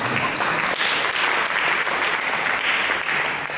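Church congregation applauding at a New Year's Day service, a dense, steady wash of many hands clapping at once, loud and close throughout with only faint voices underneath.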